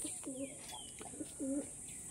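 Domestic pigeons, with a keeper about to bathe them after deworming medicine: several soft, low coos in short rolling bursts, with faint chirps, heard quietly nearby.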